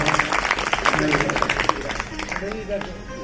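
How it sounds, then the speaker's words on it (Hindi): An audience at a Bhagavat Katha gathering claps loudly and steadily for several seconds, a dense crowd applause that tapers off toward the end, with a voice speaking over it. "एक बार जोरदार तालियां हो जाए पंडित जी के लिए।"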